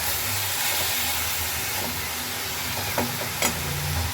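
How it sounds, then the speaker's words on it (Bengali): Leafy greens (shak) fry in a pan with a steady, close sizzling hiss. A couple of sharp stirring clinks come near the end, and nobody speaks. "আর এদিকে শাকটা ভাজতে বসিয়ে দিয়েছি"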